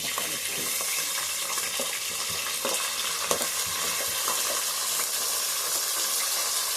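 Cauliflower sizzles steadily in hot oil with softened green chillies in a pan for vegetable rice, a continuous bright frying hiss broken by occasional stirring scrapes.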